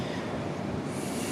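An A class tram running on the St Kilda light rail line, a steady rumbling roar of wheels on track with no clear breaks, close and continuous.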